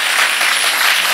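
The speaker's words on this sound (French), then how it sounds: "Ben oui, vous pouvez les applaudir" Dense, sustained applause from a TV studio audience, a steady wash of many hands clapping at full volume throughout, with no voices standing out.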